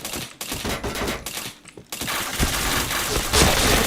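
Rapid gunfire from the shooting video game Point Blank fills the clip in dense rattling bursts. Volume dips briefly before a louder stretch of continuous shots, with faint voices in the mix.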